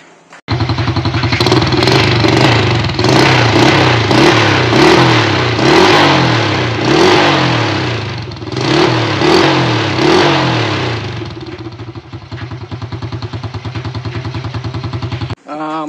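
A Honda EX5 Dream motorcycle engine fitted with a Class 1 oil pump revs loudly and repeatedly, climbing and dropping in quick blips before settling into a steady idle, with no pause in the sound.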